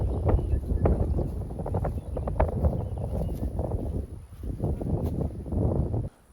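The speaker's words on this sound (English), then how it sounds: "You can tell it's real windy right now." Gusty wind buffets a microphone fitted with a furry windscreen outdoors, producing a steady low rumbling roar with irregular thumps that drops out at the very end.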